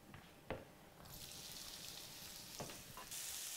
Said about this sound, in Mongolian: Одоо энэ дээр сонгоны хураад өгч.